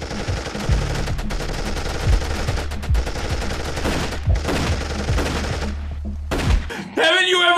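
Gunfire from a gunfight scene in the film Ember Days, loud rapid bursts of shots fired over a continuous action soundtrack, ending with a sharp change of music.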